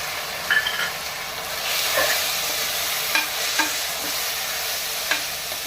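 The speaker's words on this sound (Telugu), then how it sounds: "వేగుతుంది కదండి, ఇప్పుడు ఒక కప్పు టమాటా కట్ చేసి వేసుకున్నాం" Ginger garlic paste and chopped tomato fry in a pan for mutton paya curry, giving a steady close sizzle and hiss with a few brief stirring clinks.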